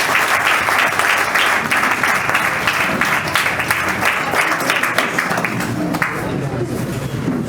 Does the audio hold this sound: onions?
no